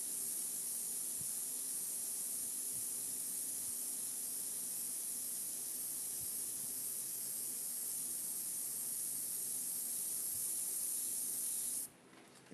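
An airbrush sprays watercolor paint in a steady, close, continuous hiss that runs evenly for most of the clip before cutting off abruptly near the end.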